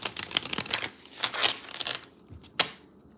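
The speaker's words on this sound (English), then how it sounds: "Okay, Desiree, I'm shuffling up your cards now." Tarot cards being shuffled up close, a run of crisp papery rustles and crinkling bursts that come and go with brief pauses before a final sharp flick.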